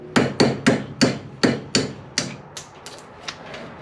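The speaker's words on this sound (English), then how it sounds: "So I'm gonna go ahead and knock that pin out now." Roll pin being hammered out of a 1971 Dodge Challenger steering shaft: about eight sharp metallic blows at a steady rhythm, close and loud, then several lighter, quicker taps near the end.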